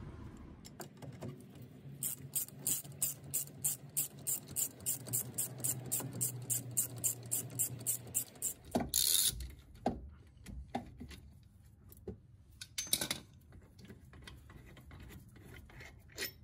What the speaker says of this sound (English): Okay, time to ratchet.